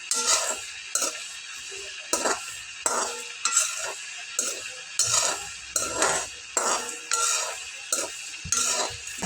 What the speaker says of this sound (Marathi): बारीक गॅसवर ह्या बिया सगळ्या भाजून घ्यायच्या आहेत